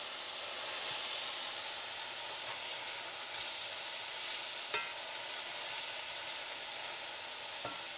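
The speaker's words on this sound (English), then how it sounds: "So we definitely want to get a sear on that. Now I can turn these over and press down" Hamburger steak patties sear in a pan with a continuous close sizzle and hiss. A few faint scrapes and taps from a turning tool break through now and then.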